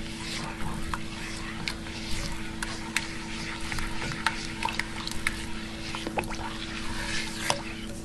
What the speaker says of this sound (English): Give that a good stir, because I already feel some of my rice sticking to the bottom there.